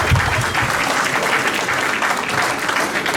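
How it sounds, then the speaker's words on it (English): Steady applause from a banquet audience at an athletic awards dinner, dense clapping that fills the whole stretch at an even, sustained level with no pauses. "Still give him a round of applause."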